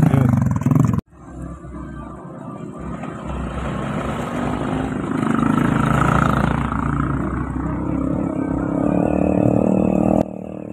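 A motorcycle engine roars on a newly renovated bridge during a village celebration, a loud, close, sustained growl that swells steadily after an abrupt opening knock.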